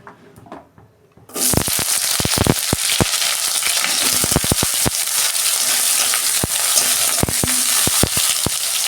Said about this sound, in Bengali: সবজিগুলো ভাজবো।